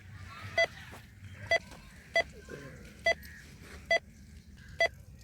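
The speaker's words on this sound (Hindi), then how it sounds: "मोबाइल की रिंगटोन बंद करो।" Six short, evenly spaced electronic beeps come from inside a bag, clear and moderately loud over a low background hum, about one per second.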